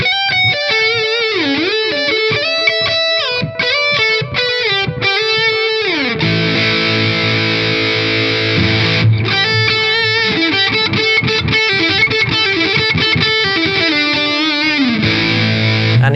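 An electric guitar played through a nearly 20-year-old distortion pedal at full gain, with riffs and bent notes, then sustained chords ringing out; loud and continuous throughout.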